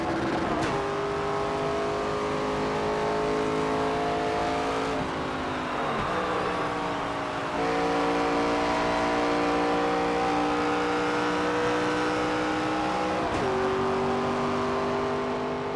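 A NASCAR 25 race car screams around the track during a night race at Phoenix, its engine droning loud and steady with sharp pitch drops at each gear shift or corner, no voices.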